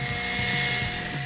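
A steady, loud whirring drill sound effect from a Cars 2 toy play scene, a continuous high buzz with a slight pulsing rhythm throughout.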